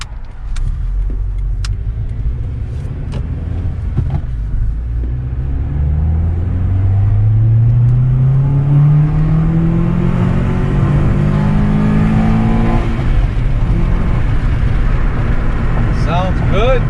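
An Acura TSX fitted with an Injen cold air intake accelerates hard, its engine note climbing steadily in pitch toward high rpm past VTEC, loud and close from inside the car, with a faint voice early on.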